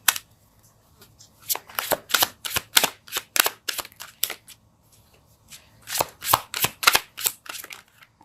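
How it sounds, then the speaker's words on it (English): Tarot cards are shuffled and riffled, quick papery flutters in two bursts separated by a short lull, close and clear. "Let's pull a card"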